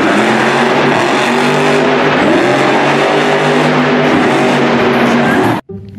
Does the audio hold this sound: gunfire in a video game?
no